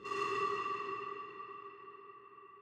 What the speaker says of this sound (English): We just want the reverb tail that builds up towards that note